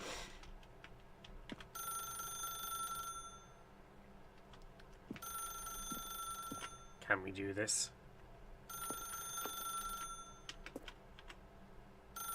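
Telephone in The Stanley Parable rings in three bursts of steady electronic trilling separated by pauses, fairly quiet, with someone talking briefly between rings.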